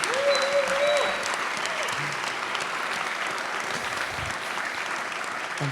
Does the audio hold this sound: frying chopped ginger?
no